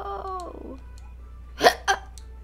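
Two sharp hiccups from a person, close and fairly loud, arriving in quick succession after a stretch of soft game background sound, with no talk.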